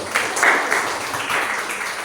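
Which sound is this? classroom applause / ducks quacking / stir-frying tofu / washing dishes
classroom applause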